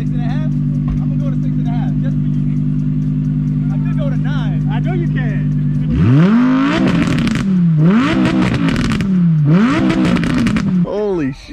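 Exotic car engine revved hard toward the red line, opening with a steady idle before three loud, rising revs with sharp drop-offs, close and dominant, with voices talking over the engine.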